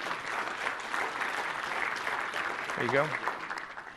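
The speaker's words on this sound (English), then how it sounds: "We can applaud. Don't be haters. Everybody applaud." An audience at a TechEd North America 2013 conference session applauds steadily for about four seconds, with a voice briefly speaking over the clapping near the end.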